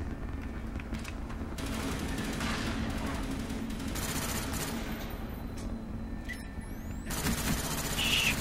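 Gunfire in the video game Call of Duty: Black Ops, with repeated bursts of automatic shots and bangs spread across the clip and a louder flurry at the end, mixed with steady game background noise.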